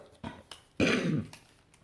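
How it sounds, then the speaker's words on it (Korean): A single throaty cough bursts out close by, short and loud, after a few fainter breathy sounds and followed by another soft one. "기침해서 미안해요."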